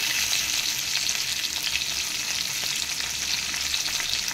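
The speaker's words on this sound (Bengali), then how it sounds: "এবার আমি কেটে রাখা টমেটোগুলো দিয়ে দিচ্ছি।" Chopped tomatoes hit hot oil in a pan with green chillies while fish curry with poppy seed paste is being made, giving a loud, continuous sizzle and crackle that holds evenly throughout with no talking.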